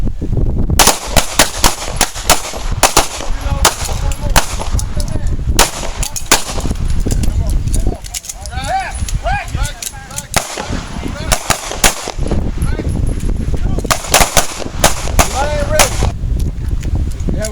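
Pistol shots ring out at police-run shooting practice, loud and close, in rapid irregular volleys with brief pauses between strings, while voices call out commands.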